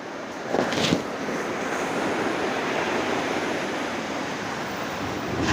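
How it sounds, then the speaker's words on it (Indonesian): Ocean waves rolling in toward the shore, a broad continuous wash of surf noise close by, with a slightly stronger breaking swell early on and wind over the microphone. "ombaknya semakin ke sini, artinya kita sudah dipersilahkan"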